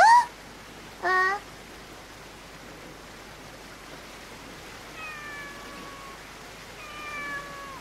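A lost kitten gives two short, sharp meows close by, then several longer, thin, drawn-out mews follow, fainter, against a quiet hissing background with no talk.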